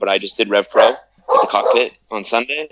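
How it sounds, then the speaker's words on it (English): Someone talks throughout while a dog barks in short bursts mixed in with his speech, close and fairly loud. "And that was my dog."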